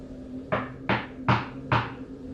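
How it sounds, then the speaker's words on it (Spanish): Hard knocking on a house door: four heavy, evenly spaced blows, close and loud, over a low steady hum. "Tocaron con mucha fuerza la puerta"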